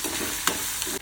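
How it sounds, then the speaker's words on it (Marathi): Onion with ginger and garlic paste frying in oil in a pan, a steady dense sizzle with brief stirring scrapes and clinks on top, close and continuous with no voices. "अद्रकची पेस्ट, लसणाची पेस्ट परतून घ्यायचं"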